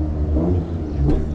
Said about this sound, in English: Very nice 300 ZX just arriving over here.